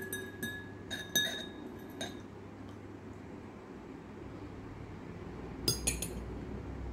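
A spoon clinks against a glass bowl while stirring lime juice into a sweet and sour dipping sauce, with a few bright taps early on and a quick cluster of clinks near the end, against a quiet background.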